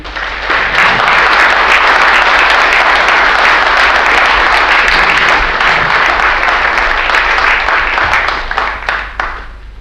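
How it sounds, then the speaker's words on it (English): Loud, dense applause from a conference audience, steady clapping that stays strong for nearly ten seconds before thinning out at the end. "please welcome to the stage to show your appreciation for their tireless work in bringing this event into the public realm, Rosie Jones and Shane Ryan."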